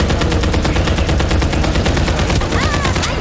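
Loud, continuous automatic gunfire from the Farlight 84 video game rattles in a fast, even stream of shots close up, with a faint whooshing effect near the end.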